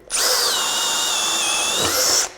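A Metabo HPT DV18DEX 18V MultiVolt hammer drill bores into wood with a 5/8 inch spade bit, a loud, close, steady high-pitched whir that dips briefly as the bit breaks through, then stops abruptly.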